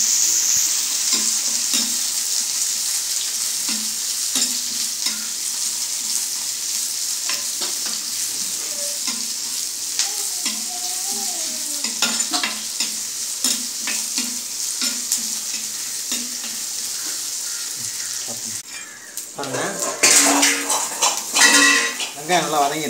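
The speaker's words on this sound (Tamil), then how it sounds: "வெங்காயம், பச்சை மிளகாய் நல்லா வதக்கிறேன் நான்." Onions and green chillies sauté in a pan for a Tamil urundai kuzhambu, a constant sizzle under repeated stirring, scraping and clinking of a metal spoon against the pot, growing louder and busier near the end.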